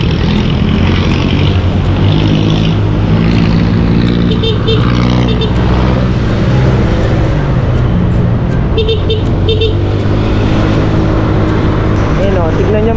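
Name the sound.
road traffic with jeepneys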